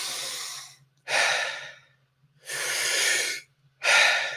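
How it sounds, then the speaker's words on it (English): Deep breathwork breaths filling the belly and chest, then released: a long airy inhale, a pause, and slow audible exhales in repeating cycles, close and soft with silent gaps between. "that is the type of breathing that we'll be doing"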